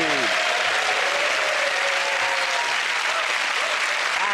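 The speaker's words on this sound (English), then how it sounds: "give that round of applause to Micky" Studio audience applause at the close of a comedy panel show, a dense steady wash of many hands clapping throughout, with a host's voice faintly over it at the start.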